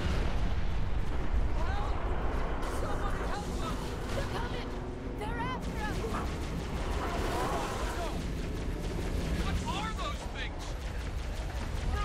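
An artillery barrage of final protective fire crashes continuously in a military video game, a loud sustained rumble of explosions and bursts, with voices talking over the din throughout.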